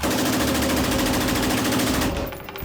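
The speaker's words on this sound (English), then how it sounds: "You ever shoot a fully automatic?" A fully automatic machine gun fires a long continuous burst at a shooting range, loud and close with rapid evenly spaced shots for about two seconds, then cutting off into a short fading echo.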